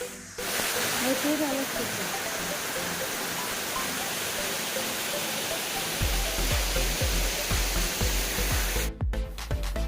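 Yerkampalem waterfall in the Godavari region roars as a steady, broad rush of falling water throughout, with some low thumps later and a voice faintly in the mix.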